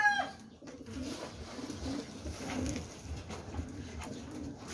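Derby pigeons cooing softly while drinking, low repeated coos over a steady background murmur, no talk.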